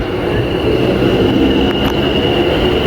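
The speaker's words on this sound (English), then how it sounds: "we have an Avanti West Coast Class 390 Pendolino approaching on platform 6" An Avanti West Coast Class 390 Pendolino runs into platform 6 at Milton Keynes Central, a loud steady rolling rumble with a sustained high whine and faint wheel squeal.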